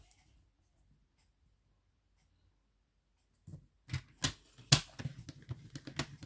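Paper being folded to make a box: after near silence, a run of crisp creases, taps and rustles begins, close and fairly quiet.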